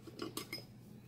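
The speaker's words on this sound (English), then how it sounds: "So we're gonna mix it a little bit." A utensil clinks a few times against a slow cooker crock while chicken pasta ingredients are mixed, three short metallic scrapes and taps close by over a quiet background hum, with no voices.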